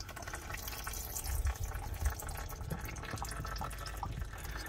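Engine oil drains from the plug on a 4th-generation Subaru Legacy Outback wagon, a steady close liquid pour with irregular splashes and gurgles.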